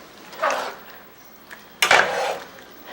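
Baked ziti ingredients stirred in a pot, two distinct scraping, clattering bursts of a utensil against the pot with a faint tap between, close and fairly quiet.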